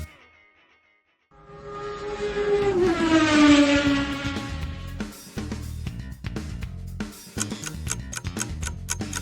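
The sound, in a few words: sport bike engine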